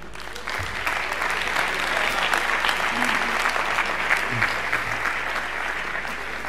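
An audience at a conference applauds a musician walking to his instrument before a jazz ballad, steady dense clapping sustained throughout, fairly loud and close, with a faint low hum beneath.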